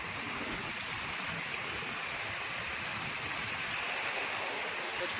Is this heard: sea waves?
yes